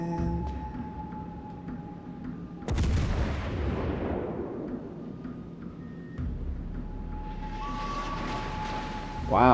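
Naval guns fire in World of Warships: Legends, one heavy, booming blast from a battleship's main battery that rolls into a long decaying rumble, followed by steady engine and sea ambience with a rising whoosh at the end.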